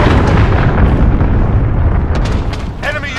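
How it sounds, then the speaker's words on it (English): A loud, sustained explosive roar from an enemy cruise missile strike in the video game Call of Duty: Modern Warfare, dense booming rumble filling the whole stretch with crackling debris and a game announcer voice near the end. "Enemy cruise missile incoming."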